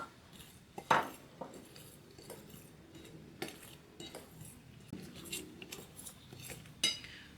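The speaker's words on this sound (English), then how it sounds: "We are going to combine our flour with our ground almonds, our cinnamon and salt" Flour, ground almonds, cinnamon and salt mixed together in a bowl for Alsatian Christmas cookies, giving soft scraping and several clinks of a utensil against the bowl, quiet and close, with no talking.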